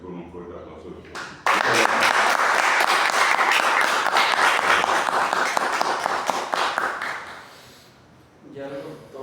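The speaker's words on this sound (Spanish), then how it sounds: "esta presentación con un fuerte aplauso de todos" Loud, dense applause from a large audience at a patriotic poetry recital and awards ceremony, breaking out suddenly after a short stretch of talk, holding steady for several seconds, then fading out as a voice resumes.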